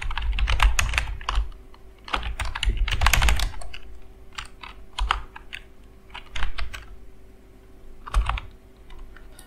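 Keystrokes on a computer keyboard as a password is entered, arriving in quick bursts of close, crisp taps separated by short pauses, with no talking.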